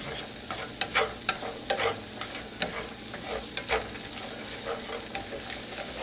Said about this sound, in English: add in the mushroom and onion.